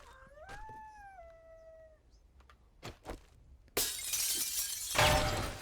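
In the survival video game 7 Days to Die, a dog howls in a rising, wavering tone for about two seconds, followed by a couple of dull thuds and then a loud burst of shattering noise.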